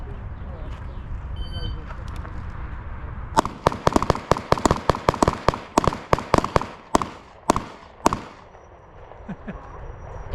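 Pistol shots fired in a rapid string during timed shooting practice, about a dozen sharp cracks in quick succession after a quieter stretch of ambient noise and voices, each shot distinct and fairly close.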